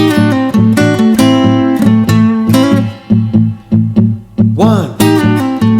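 A blues guitar plays a double stop lick over a backing track, with rhythmic paired-note stabs, a quick bend near the end, and a steady pulsing accompaniment throughout.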